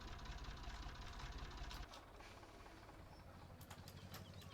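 Tractor engine idling in the Farming Simulator 17 game, a steady low rumble with a knocking pulse that drops in level partway through and keeps running quietly to the end.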